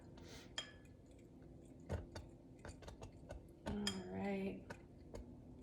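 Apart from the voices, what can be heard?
spoon stirring hot mixture in pot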